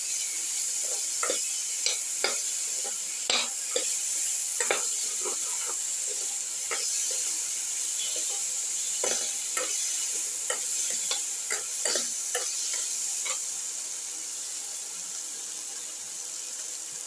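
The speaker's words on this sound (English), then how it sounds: "Put in the tomato pieces. Thoroughly saute and mix." Tomato pieces sautéing in a pan and stirred continuously, a steady sizzle broken by frequent sharp spatula scrapes and taps in an uneven rhythm, easing off toward the end, no voices.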